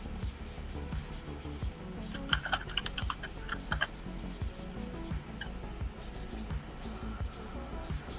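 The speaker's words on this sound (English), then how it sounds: "I will come in the chat, and so I can also type." Rapid clicking of computer keys as someone types into a chat, with soft irregular taps near the mic running under quiet speech.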